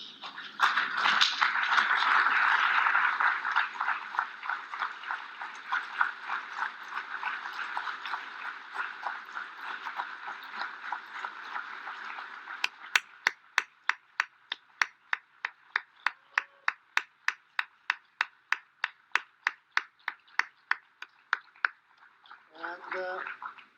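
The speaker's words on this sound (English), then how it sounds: "So I invite you to stand up and make an applause to Elmo DiBiagio." An audience at an award ceremony during a symposium in Rio gives a long round of applause, a dense wash of clapping that turns into evenly spaced rhythmic claps near the end, followed by a short burst of sound.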